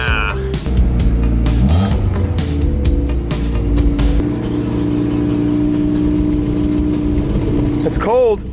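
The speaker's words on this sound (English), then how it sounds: "those E85 starts are getting rougher every day" Big-turbo 2JZ engine in a Mk3 Supra cold-starting on E85 in about 30-degree weather, cranking then catching into a loud, rough, uneven idle with revving, close and heavy throughout.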